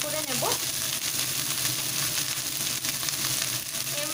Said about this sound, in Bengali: ফুলকপিগুলোকে ভালোভাবে ফ্রাই করে নেব।